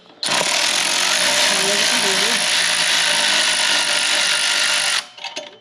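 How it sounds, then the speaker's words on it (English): Rapid continuous clicking of a ratchet, close and loud, turning a bolt on the mid-pipe exhaust of a 2025 Husqvarna Norden 901 Expedition motorcycle, running steadily for about five seconds before stopping, with a voice faintly under it. "So you have to loosen this other bolt on the"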